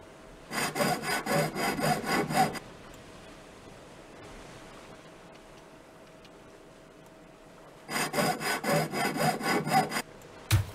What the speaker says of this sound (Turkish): Tamam, ver testere.